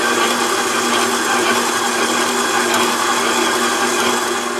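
A stand mixer kneads pandoro dough as butter is worked in, producing a loud, steady motor whir with a constant mechanical hum and no break.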